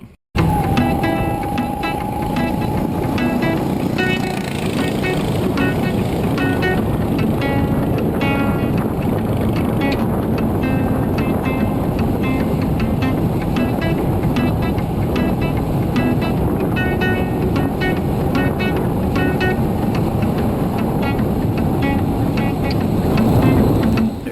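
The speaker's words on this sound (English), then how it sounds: "Got another jeepney coming up." A jeepney drives past on a road in Mabinay, heard as a steady engine and road roar mixed with wind buffeting a nearby microphone, holding loud and constant throughout.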